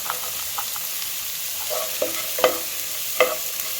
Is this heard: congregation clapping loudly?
no